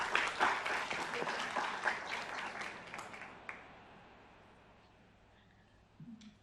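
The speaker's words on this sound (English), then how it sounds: "I want to give everybody a round of applause." A round of applause from an audience at a postdoc appreciation event, brisk clapping for about three seconds that thins out and fades into a quiet room.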